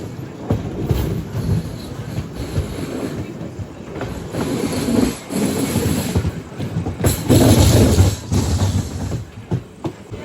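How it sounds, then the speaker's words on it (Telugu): A MEMU passenger train rolls into Tadepalligudem railway station, heard from on board: rhythmic wheel clatter over rail joints, rumbling carriage noise and occasional brake squeal, loud and close throughout. "అదే అండి మన గూడెం రైల్వే స్టేషన్కి ఎంటర్ అవుతున్నాం"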